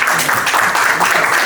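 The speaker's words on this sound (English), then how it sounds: "Bigger round of applause." A loud burst of close, dense hand clapping from an audience at a textile trade show, steady and unbroken for its brief length.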